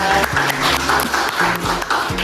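A room of junior high students claps for a classmate after her talk, a short burst of applause heard close and fairly loud, with a faint tonal hum running underneath.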